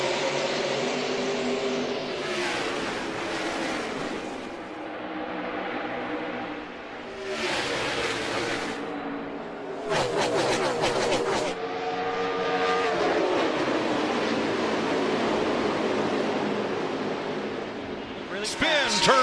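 NASCAR stock cars race around the track, engines roaring loudly and steadily with repeated passes and surges, under a loud announcer voice and crowd noise throughout.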